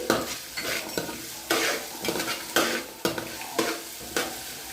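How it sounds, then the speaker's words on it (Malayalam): Chicken stew frying in a pan while a spoon stirs it, with steady sizzling and repeated scraping strokes about once a second, near and clear, with no talking. "നന്നായി ഇളക്കി കൊടുക്കണം"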